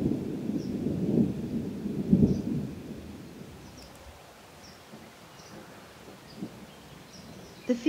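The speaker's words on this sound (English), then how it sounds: "A thunderstorm is building," Low rumbles of thunder roll in twice early on, then a quiet steady patter of rain with faint bird calls in the distance, in Provence in spring.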